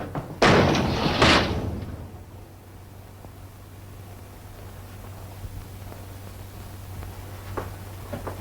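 A door in a 1938 romantic comedy is shut with two close, loud slams or thuds in quick succession, followed by a long quiet stretch of faint room noise and low hum with a few soft clicks.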